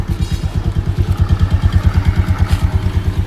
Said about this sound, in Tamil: பாருங்கள் வண்டி இன்ஜின் நாய்ஸ் பாருங்கள்,